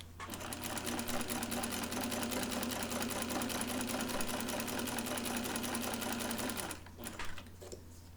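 A sewing machine runs in one steady, rapid stitching burst for about seven seconds while stay stitching blouse side back pieces, then stops, leaving a few soft handling sounds.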